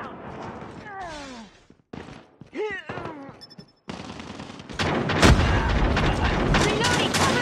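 Pistol fire in a 10v10 pistol-only video game match, loud bursts of shots and booms filling the second half under excited voices, after a stretch of shouted talk and tonal effects.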